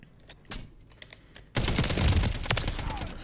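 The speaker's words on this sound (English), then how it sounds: "Thing worked good on the hip shot." MTZ 762 rifle in a video game fires from the hip in a loud, rapid burst of gunshots that starts abruptly partway through, after quieter clicks and shuffling.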